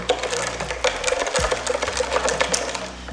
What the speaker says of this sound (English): stir it out.